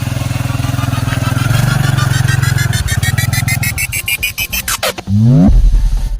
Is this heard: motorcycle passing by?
yes